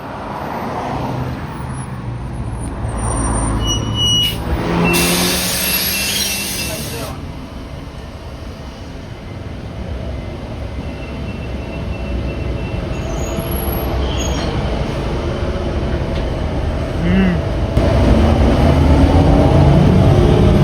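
A New Flyer Xcelsior transit bus rides along, its steady engine and road rumble filling the cabin with a constant loud drone, occasional rattles and brief bright hiss bursts.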